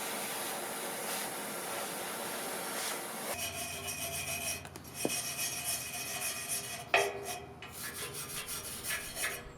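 Steady rasping scrapes of a wire brush scrubbing rust off a metal wood stove, continuous back-and-forth strokes with a few sharper knocks, close up and with no talking.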